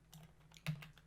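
Keystrokes on a computer keyboard while coding collision logic in GameMaker, a handful of quick taps over about a second with one sharper, louder press near the middle, fairly faint and with no talk.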